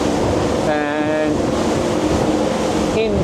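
A Grady White 386 Canyon with triple 450 hp Yamaha outboards pushes into steep offshore waves at about 14 knots, giving a steady loud wash of water and engine roar with wind, and a voice talking over it.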